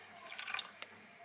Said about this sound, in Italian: Vado, butto l'acqua.